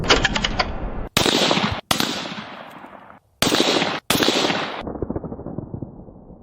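Bursts of AK-47 rifle fire, 7.62mm, crack out in rapid automatic strings, four or five loud volleys separated by brief pauses, each with sharp repeated reports and a ringing tail.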